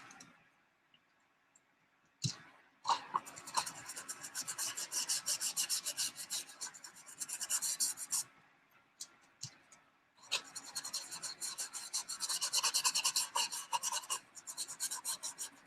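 Art materials scratch and rasp across a journal page in several bursts of dry, gritty rubbing, close and fairly loud, separated by brief pauses and a few clicks.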